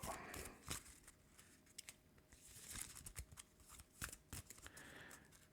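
A deck of board game cards for Earthborne Rangers is shuffled by hand, giving a run of crisp, close riffling and flicking bursts with brief pauses between them.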